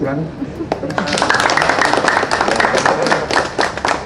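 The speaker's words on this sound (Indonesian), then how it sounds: "tepuk tangannya tulus kalau ini sekarang" Crowd applause at a police operation briefing, steady dense clapping that swells and continues throughout, with voices mixed in the background.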